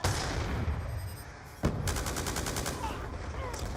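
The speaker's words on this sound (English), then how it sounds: "there's some really good sounding gunshots." Gunfire in Call of Duty: Black Ops II rings out over steady game noise: one sharp shot, then a rapid automatic burst of evenly spaced reports, with faint talk underneath.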